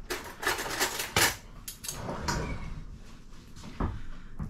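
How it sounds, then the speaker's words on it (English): A knife and fork are picked up and handled in a home kitchen, giving several sharp close metallic clinks and rattles among quieter clatter of drawers and dishes. "Okay, let me get knife and fork."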